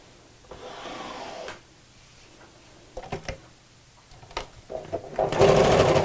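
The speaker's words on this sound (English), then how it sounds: "sew straight down the centre of the zip" A sewing machine stitches in short bursts, close by, with small rubbing and handling noises between runs and a longer stretch of stitching at the end.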